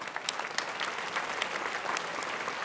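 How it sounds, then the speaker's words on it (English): An audience at a multiple sclerosis summit applauds steadily, a fairly faint, even wash of many hands clapping at a distance with no voices over it. "I hope that you could all give them a round of applause and say thank you."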